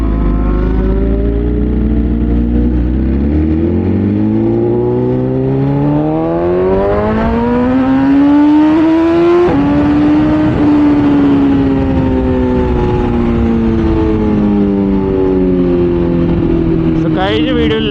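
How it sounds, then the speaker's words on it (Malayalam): A motorcycle in city traffic revs up steadily through quickshifter gear changes, its engine note climbing smoothly and loud throughout, with a brief blip near the end and no clear talking. "അപ്പം ഇതിൽ ക്വിക്ക് ഷിഫ്റ്റിലൂടെ ഇങ്ങനെ ചുമ്മാ ഗിയർ മാറ്റിക്കൊണ്ടിരിക്കാം."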